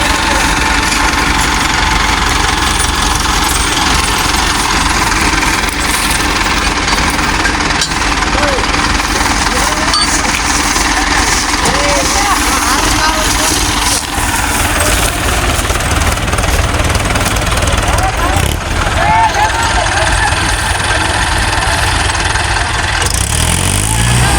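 Loud, continuous rumble of three tractors and a JCB idling and revving nearby, trying to pull a sugarcane-laden tractor stuck in a field, with a rattling, vibrating drone throughout and occasional voices underneath.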